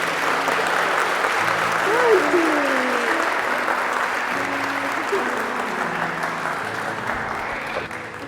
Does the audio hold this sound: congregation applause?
yes